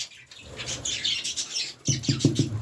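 German breed pet birds chirp and squawk at close range, with short bright calls and a few quick wing flutters, no talking.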